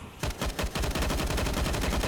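Rapid AUG rifle fire in a Counter-Strike match on the Cache map, a dense burst of loud automatic shots starting after a brief quiet moment and continuing steadily to the end.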